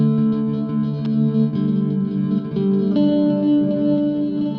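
Layered, shimmering tones from a SOMA Cosmos effects unit with its noise modulator engaged, shifting gently as new notes enter, loud and close with no talking.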